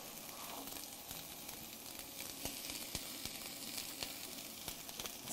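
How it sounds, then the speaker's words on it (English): Food sizzles in a pan while a turkey and wild mushroom pot pie is being cooked, a steady, fairly quiet hiss scattered with sharp crackles and pops, with no talking. "That's a happy sizzle for sure."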